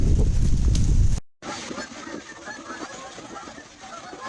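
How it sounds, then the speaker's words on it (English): Geese honk at a distance on a beach after a brief burst of close rumbling noise, with an open outdoor hiss underneath. "It's so nice out, even the geese don't want to leave."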